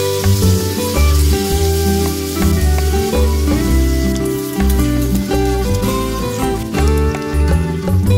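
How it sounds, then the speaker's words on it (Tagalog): Meat sizzles and sautés in hot oil with ginger and onion for ginataang gabi, a loud, steady frying hiss with stirring clatter throughout. "ilagay na natin ang karne at igisa natin ito hanggang sa ito ay mag golden brown"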